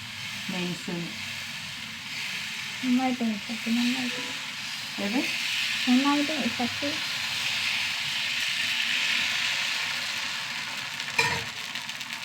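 Ragi dosa batter sizzles on a hot pan in a broad, steady hiss that runs throughout, with a voice talking over the first half.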